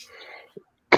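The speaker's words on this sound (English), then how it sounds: "that's me coughing" A person coughs once, sharply and close, at the very end, after a short stretch of breathy throat noise and a small throaty catch.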